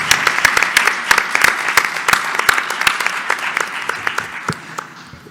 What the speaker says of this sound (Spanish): Un aplauso. Les pido para ellos.